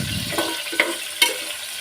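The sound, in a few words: sautéing in a pan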